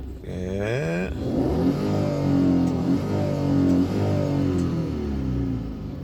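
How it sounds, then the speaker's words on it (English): A 2003 Hyundai Grandeur XG running on LPG with an automatic transmission revs up, the engine note sweeping upward, then holding at a loud, steady hum close by. "try to accelerate and see the RPMs movement"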